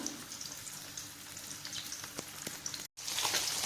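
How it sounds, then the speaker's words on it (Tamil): Fish coated in turmeric and salt frying in hot oil, giving a soft, steady crackle and sizzle with scattered pops. The sound is quiet and close, broken by a brief dropout near the end. "மஞ்சள் உப்பு போட்டு கலந்து வச்சிருக்கிற மீனை எண்ணெயில் போட்டுக்கலாம். பொரிச்சு எடுத்துடலாம்."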